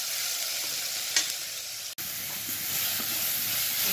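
Onions sauté in a pan on a wood stove with a continuous close sizzle and hiss, marked by occasional stirring scrapes and a brief sharp click.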